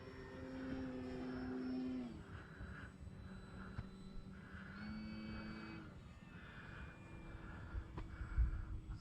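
An FMS Pitts 1400mm radio-controlled biplane drones overhead with a steady, slightly wavering electric motor whine at moderate distance, rising and falling gently as it flies, with no voices.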